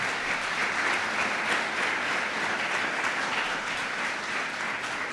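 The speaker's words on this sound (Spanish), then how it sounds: "Démosle un aplauso al Señor por eso." A church congregation breaks into steady, sustained applause during a Christmas service, a dense wash of many hands clapping at once that holds at an even loudness throughout, with no talking over it.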